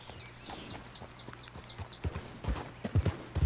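Horse hooves clip-clopping in Red Dead Redemption 2, a rhythmic series of moderately loud hoofbeats that grow heavier and louder toward the end, over a low steady hum with faint bird calls.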